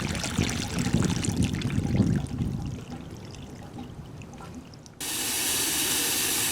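Water gushes from the faucet of a newly plumbed outdoor patio sink, a steady close splashing pour that shifts into a brighter, hissing stream near the end, with no talking.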